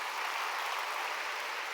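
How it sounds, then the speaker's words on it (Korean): Soft, steady clapping from a church congregation during a sermon, a faint, even wash of applause with no voices over it. "박수 주세요."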